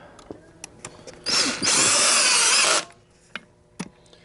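A power drill fitted with a Torx bit and set to a torque setting drives screws into steel and aluminum during a vacuum cord repair, giving one short whirring burst of just over a second between quiet clicks and handling noises.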